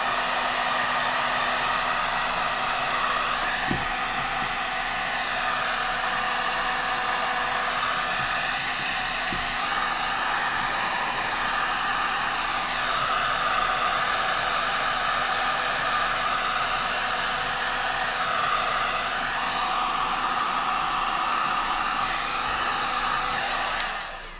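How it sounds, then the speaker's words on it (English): A heat gun blows continuously for a long stretch while heating a kayak power cord, a steady loud whooshing roar close by with no talk. "we're going to take the heat gun, move this out of the way, and we're going to heat it up"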